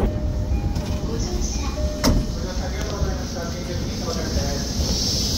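Steady, loud rumble inside a JR Chuo Line train at Shinjuku station, with a brief clunk midway and muffled voices in the background.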